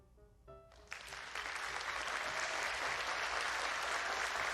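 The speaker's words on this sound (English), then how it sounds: "A round of applause goes up from the audience." After a ballet performance, a theatre audience breaks into applause that rises from a few claps into dense, sustained clapping. Faint musical tones sound just before it.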